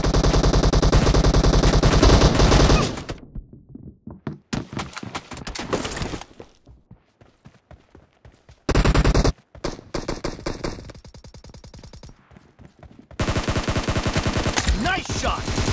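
Rapid automatic gunfire in a video game arrives in loud sustained bursts separated by gaps holding sparser single shots and game sounds, with a brief announcer-style voice in places.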